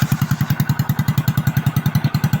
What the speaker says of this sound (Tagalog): Putol yung tabutso guys. Ayan na. Kaya maingay.